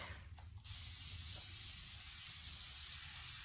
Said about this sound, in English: Grab a paper towel so I can spray this transfer